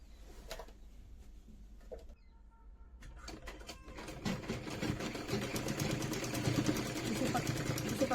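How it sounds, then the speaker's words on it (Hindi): A sewing machine runs steadily while stitching the crotch seam of ladies' pants. Quiet at first, the whirring motor grows louder and denser over the second half, and some talk is heard. "तो अब हम यहाँ पर जो क्रोच एरिया वाली स्टिचिंग है वो लगा देंगे।"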